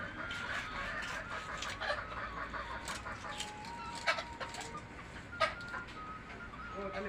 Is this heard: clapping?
no